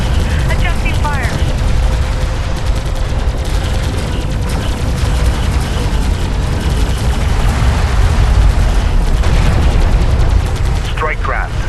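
Dense battlefield gunfire and booms from Homeworld: Deserts of Kharak fill the scene continuously, loud and layered, with radio-style voices and alert tones mixed in.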